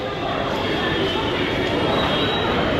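Busy metro station ambience in Mumbai: a steady, dense wash of crowd murmur and rumbling machinery, with indistinct voices mixed throughout.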